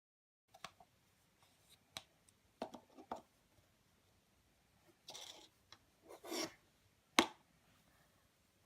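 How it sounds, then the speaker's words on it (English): A spatula smooths broken powder makeup paste down into its pan, giving close, quiet scrapes, taps and rubbing strokes in scattered bursts with short pauses between them. "use your spatula and or your finger to try and smooth it down into the pan"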